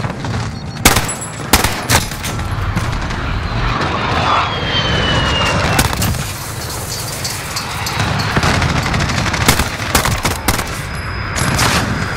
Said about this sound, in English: Enemy VTOL in the AO.